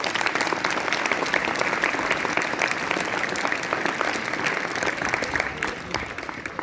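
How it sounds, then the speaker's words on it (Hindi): Loud, sustained applause from a gathered audience of students at a school event in a schoolyard, dense and steady throughout before tapering slightly at the end. "आप अपने लिए एक बार जोरदार तालियां बजा दें।"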